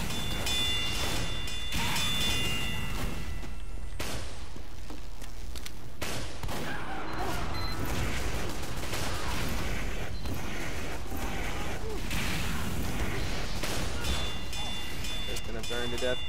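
Rocket explosions in Team Fortress 2, repeated booming blasts scattered through a loud, chaotic battle mix with constant game noise and talk running throughout.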